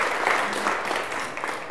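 Audience applause for a contestant at a school book-quiz event in Georgia, a steady wash of clapping that holds at even strength throughout with no talk over it.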